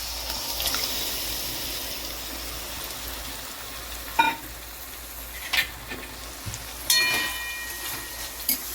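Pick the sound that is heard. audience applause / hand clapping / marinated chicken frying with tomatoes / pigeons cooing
marinated chicken frying with tomatoes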